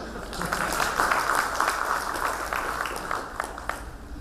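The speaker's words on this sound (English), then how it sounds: "Some claps." Audience applause at an award ceremony, a dense patter of many hands clapping at moderate distance, swelling briefly and then thinning out.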